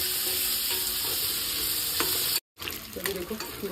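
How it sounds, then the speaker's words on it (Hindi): Bombil fish frying in a pan, a steady close sizzle with light stirring and scraping, broken briefly by a short gap before the crackle resumes. "बिल्कुल फ्राई करते हैं तो इसको ना अच्छे से फ्राई कर लूँगी मैं"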